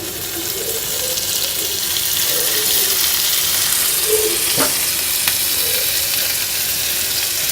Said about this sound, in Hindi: थोड़ा सा हम बटर डालेंगे।